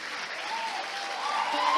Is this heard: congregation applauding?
yes